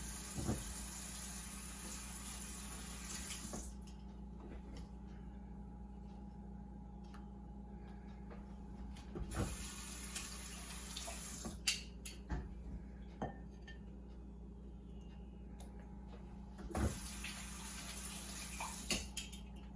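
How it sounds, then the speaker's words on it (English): Kitchen tongs are rinsed under a running tap, with two long steady bursts of water broken by soft metallic clinks and handling noises, heard close in a quiet room. "I'm going to rinse the tongues to make sure that there is no cross-contamination between each of the apples and the solutions."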